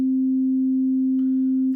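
A steady pure sine tone from a Roland Zenology synth oscillator with sync mode engaged, holding one pitch for nearly two seconds, with a faint higher flicker near the end before a brief noisy click.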